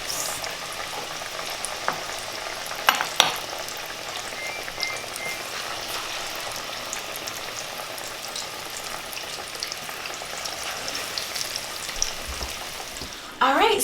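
Sweet plantains fry steadily in a pan, a continuous close sizzle and crackle with occasional louder pops and spatters, no voices.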